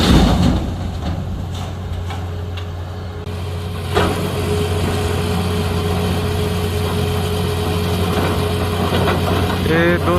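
A truck engine idles at night with a steady, low rumbling drone that keeps going throughout, sounding close and loud, with a faint clunk partway through.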